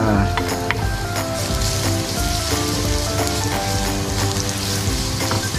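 Garlic frying in sesame oil in a pan for tofu in garlic oyster sauce, a steady dense sizzle running loud and close throughout, with faint scattered clinks of utensils.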